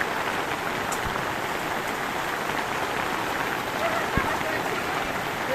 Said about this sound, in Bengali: দেখুন কি বৃষ্টি, অনেক বৃষ্টি হচ্ছে, বৃষ্টি অসম্ভব।